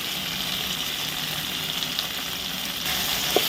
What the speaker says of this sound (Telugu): నేను చూపించిన కొంచెం చింతపండు, ఇది కూడా కుక్ అయ్యేలాగా ఇలా ఫ్రై చేసుకోండి.